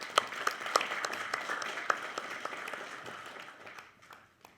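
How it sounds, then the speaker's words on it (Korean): Audience at an independence declaration anniversary ceremony gives a modest round of applause, a distant mix of individual claps that gradually thins and fades out. "큰 박수로 좀 모시도록 하겠습니다."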